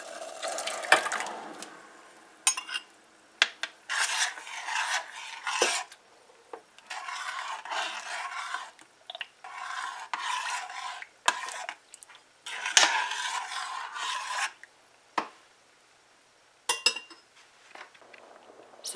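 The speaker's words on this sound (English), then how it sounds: "we have heated some water here, and we're gonna add our soaked oats to this now." Soaked oats are stirred into heated water in a pot, giving close, intermittent scraping and rasping strokes with small clinks of a utensil against the pot, coming in irregular bursts separated by short pauses.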